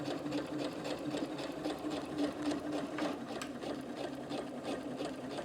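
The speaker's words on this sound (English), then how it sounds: "we are sewing all the way down, just making sure that we're not catching that seam on the inside" A sewing machine stitches stretch fabric for fingerless gloves, running in a steady, continuous whir with a rapid needle rhythm, close and fairly loud, alone without talk.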